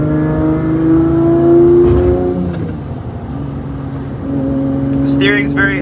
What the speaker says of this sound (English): This car has to be the best sounding car in the world with this exhaust